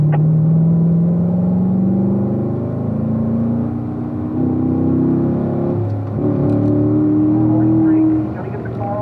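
A Corvette accelerates on a race track at a performance driving school. Its engine drones loud and close, rising steadily in pitch as it revs, easing off briefly and then climbing again, with a voice talking over it.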